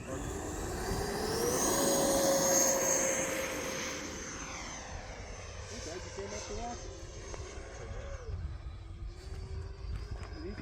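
An E-flite Viper 90mm RC jet whines overhead, its ducted-fan pitch swelling loudly then sliding down as it passes and recedes, over steady outdoor background noise.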